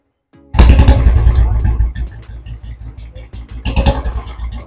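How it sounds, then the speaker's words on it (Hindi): A used Royal Enfield Bullet motorcycle engine fires up and settles into a loud, close, thumping idle with a rhythmic low-pitched beat and light mechanical clatter, then briefly revs. "मैं स्टार्ट करके आपको पहले तो इंजन की साउंड है जो हमारी चेक करनी है"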